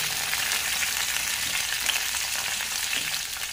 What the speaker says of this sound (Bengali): এইগুলো আমি কিছুক্ষণ ভেজে নেওয়ার পর তারপর সজনে ডাঁটাটা দেব।